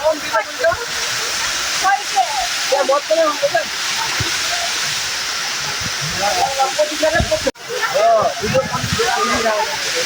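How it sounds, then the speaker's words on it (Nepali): Water pours steadily down the Pedi Khola waterfall at Shantinagar 1 in a broad continuous hiss and rush, with people talking intermittently over it. "पेदी खोलाको झरना देख्न सक्नुहुन्छ"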